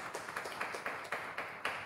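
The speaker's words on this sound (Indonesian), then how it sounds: "Boleh tepuk tangan yang meriah untuk Kak Windo sekali lagi" Faint, evenly spaced hand claps from a small audience at a course session on decentralized technology, about eight soft claps in under two seconds with no voices.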